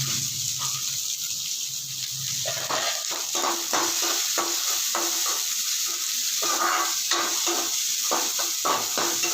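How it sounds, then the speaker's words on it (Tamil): Green chillies being tempered in hot oil crackle and sizzle up close, with repeated scraping strokes of stirring in a pan, loud and steady, no voices. "பச்சை மிளகா போட்டுக்கணும்"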